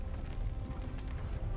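Hoofbeats of a horse in the medieval battle game Mount & Blade II: Bannerlord, a quick steady clip-clop rhythm of several rapid strikes at moderate, even loudness with no talk over it.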